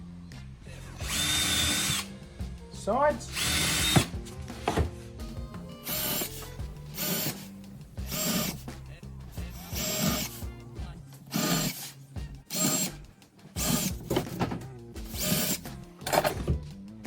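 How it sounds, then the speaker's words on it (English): A power drill whirs in repeated short bursts, starting and stopping as it bores holes while building a gold sluice box, close and loud, with a brief spoken word. "we'll start off by drilling out some holes for the"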